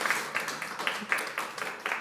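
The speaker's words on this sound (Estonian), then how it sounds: "Teeme aplausi." Audience applause for a participant taking a seat at a political debate on circular economy, a short patter of clapping from a modest crowd at moderate distance, with no speech over it.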